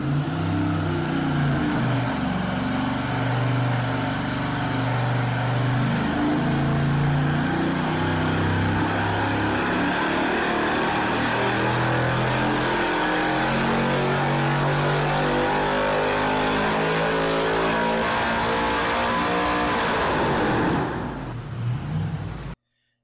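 A 4.8 liter V8 runs on a dyno with a stock cam, droning loudly and steadily with rising and falling revs through the pull before cutting off abruptly near the end.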